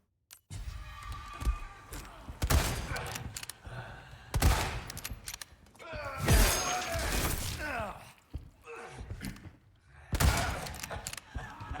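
Gunfire from a weapon in the Resident Evil 4 Remake video game, several loud sharp bursts and impacts separated by short pauses, with a voice talking over parts of the action.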